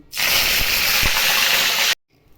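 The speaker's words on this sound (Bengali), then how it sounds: "ওই গরম তেলেই আমি কিছু এই কারি পাতা নিয়েছি সেগুলো ভেজে নেব" Curry leaves hit hot oil in a pan with the gas flame switched off, giving a loud sharp burst of sizzling and crackling that lasts nearly two seconds and then cuts off abruptly.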